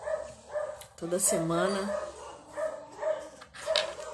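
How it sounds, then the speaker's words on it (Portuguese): Several dogs at home bark in repeated short bursts at a moderate distance, mixed in with a person talking over them. "Dá pra escutar meus cachorros latindo, né?"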